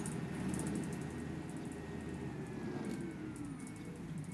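A steady rain downpour in the OMSI 2 bus simulator game, a constant dense hiss of falling rain with a faint engine hum underneath and no voices.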